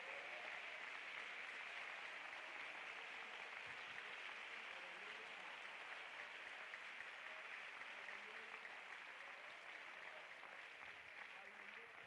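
A church congregation at a Spanish convention applauds steadily, a dense wash of clapping that stays even and sustained throughout, with no distinct voices standing out.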